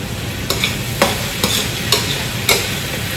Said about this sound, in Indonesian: Kita matengin dulu bawang bombaynya